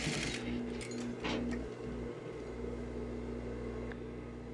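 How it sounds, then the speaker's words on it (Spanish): A sewing machine stitches a trouser zipper seam up to the waistband, a steady mechanical hum running close and continuous with a few brief rattling bursts early on, no talking. "y seguir cosiendo hasta llegar a la cintura. Terminamos con un remate."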